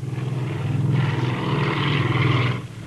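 A single piston-engine helicopter flies at modest altitude over a city skyline, giving off a steady, fairly loud throbbing engine drone with rhythmic rotor pulsing that swells slightly before fading near the end, with no voices.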